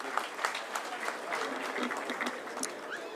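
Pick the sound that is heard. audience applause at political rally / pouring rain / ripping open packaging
audience applause at political rally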